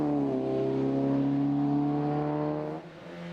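A first-generation Ford Fiesta racing up the Houyet hill climb, its engine holding a loud, steady high-revving tone close by before the pitch drops sharply as the driver lifts off near the end.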